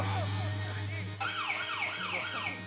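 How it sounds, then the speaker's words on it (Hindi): Ambulance siren wailing in a repeated rising and falling sweep, several cycles with a steady low hum underneath, moderately close. "पता क्यों एम्बुलेंस आ गए वो।"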